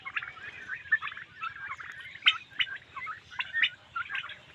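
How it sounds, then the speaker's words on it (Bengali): Three-month-old turkey chicks gobble and chirp in quick, overlapping bursts, fairly close, a busy flock calling over a quiet background. "বিভিন্ন কালারের টার্কি বাচ্চা রয়েছে এখানে"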